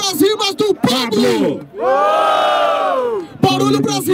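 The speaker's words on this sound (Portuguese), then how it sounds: "Barulho pras rimas do Pablo!" Crowd at a Brazilian freestyle rap battle roars and yells in a sustained swell lasting about a second and a half, loud and close, framed by an emcee shouting over a microphone before and after.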